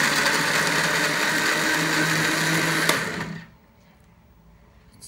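A Homestar HS-2011 jug blender runs steadily on its lowest speed setting, a loud continuous motor whir, then switches off about three and a half seconds in, leaving near silence.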